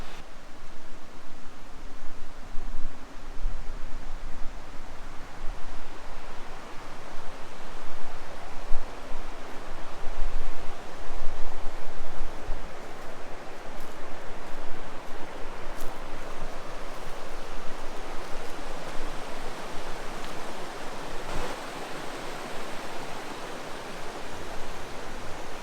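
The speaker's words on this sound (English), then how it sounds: "You can probably hear the water in the background." Steady broadband rush of a flowing stream, continuous and fairly loud throughout, with no voices.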